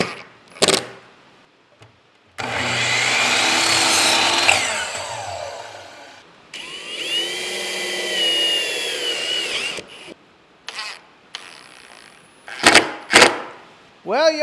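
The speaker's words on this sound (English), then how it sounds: "got to re-drill all of my holes" A power drill whines through wood in two long bursts, its pitch rising and falling, separated by short clatters and handling noises.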